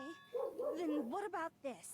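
A dog barks a few times close by in short, bright yips over about two seconds, overlapping a person talking.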